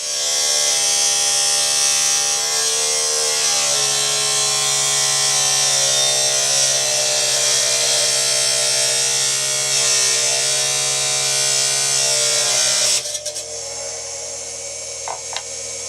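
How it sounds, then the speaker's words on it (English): A rock trim saw cuts through petrified wood stone with a steady, loud, high-pitched whine and grinding buzz. The blade runs nearly continuously, then the cut stops abruptly near the end, leaving a quieter motor hum. "I'll trim it out on the trim saw."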